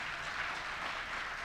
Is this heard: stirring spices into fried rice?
no